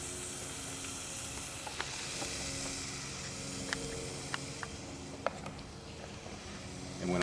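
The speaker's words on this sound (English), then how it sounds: "I don't know if you can hear that sizzle, but it sounds pretty darn good to me." Steady sizzling and frying in a Dutch oven while cowboy beans cook, a continuous close hiss with occasional small pops and crackles throughout.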